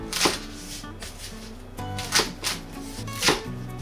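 Knife chopping beef tendon on a cutting board while preparing red-miso beef tendon stew: a few sharp, separate chops spaced about a second apart, close and moderately loud, with no talking.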